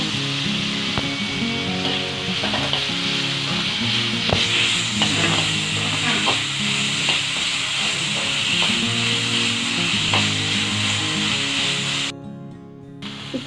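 Onions with garlic and salt sauté in a pan, a steady close sizzle with occasional scraping strokes from a spatula, fading out near the end.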